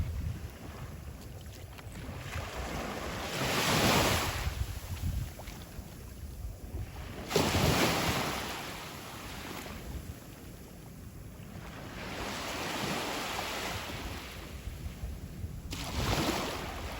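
Ocean waves roll onto a beach after Hurricane Idalia, swelling in slow, broad surges every few seconds under constant wind rumbling across the microphone.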